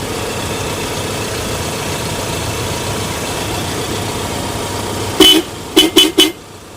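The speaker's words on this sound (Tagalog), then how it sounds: "Pag na-ground natin to, lalakas na ang busina niyan" A vehicle engine idles steadily, then a newly installed car horn, now grounded, blares once and gives three quick short honks, loud and close.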